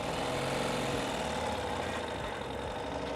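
A Ural Gear Up sidecar motorcycle engine runs steadily and fairly quietly as the bike pulls away, with a low, even mechanical chug and no voices.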